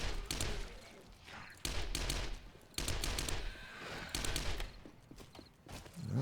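Rapid bursts from a 10mm gun in 7 Days to Die, loud repeated volleys of close shots in clusters with short pauses between them.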